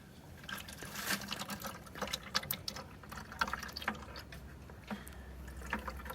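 Coolant draining from a Bobcat 463 skid steer loader, a steady liquid trickle and splash into a container with small irregular gurgles throughout, fairly quiet and close, no talking.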